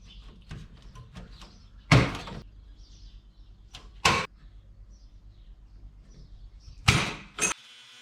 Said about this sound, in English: The old tin snips to get through there.